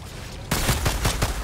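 Dual pistols firing in Outriders: a quick run of about six sharp, evenly spaced shots, close and loud, following a brief quiet moment.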